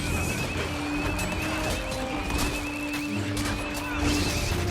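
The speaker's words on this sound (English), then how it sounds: "someone's using the goddamn horse weapon. I hate that weapon. Makes so much noise." A horse weapon in the Assassin's Creed Crossover Stories video game gives repeated neighs and whinnies with clip-clop hooves, all under a dense, loud game soundscape that holds for nearly five seconds; no voices.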